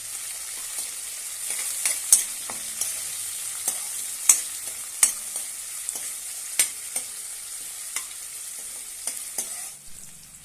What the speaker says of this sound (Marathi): टोमॅटो घालूया आणि छानपैकी परतून घेऊया।